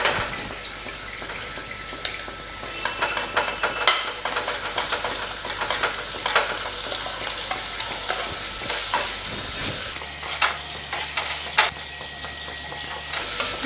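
Rohu fish pieces frying with spice masala in a pan over medium flame, a steady close sizzle with scraping stir strokes throughout, a brief watery rinse-like hiss partway, no talk.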